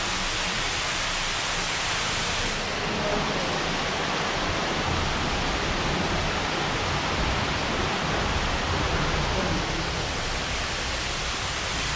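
Rain falls steadily at the Padre Pio shrine, a continuous broadband hiss like a downpour on surfaces, loud and even throughout with no voices.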